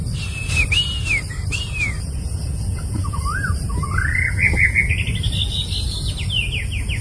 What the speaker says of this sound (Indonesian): tapi isiannya burung wambi